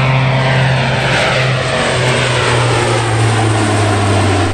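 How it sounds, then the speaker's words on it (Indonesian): A military Air Force airplane drones loudly and steadily close by, its engine tone holding constant throughout with no voices. "Widih, widih, ada juga pesawat militer teman-teman. Ini pesawat Air Force"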